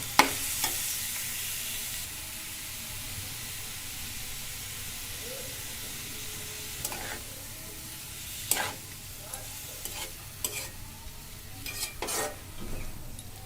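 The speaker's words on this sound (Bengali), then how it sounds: "এবার সুন্দর করে আস্তে আস্তে ভাজা ভাজি করে নেব।" Spices and turmeric fry in a pan with a continuous, fairly quiet sizzle and hiss. Now and then a spoon scrapes and taps against the pan, and these soft knocks become more frequent toward the end.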